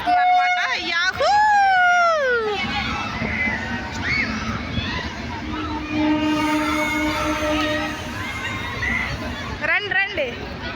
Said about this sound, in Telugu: ట్రైన్ అయితే వస్తుంది.